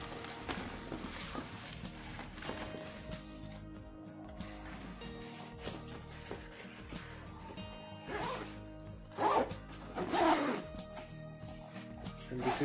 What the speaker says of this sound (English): Let's move on to the 2 main compartments.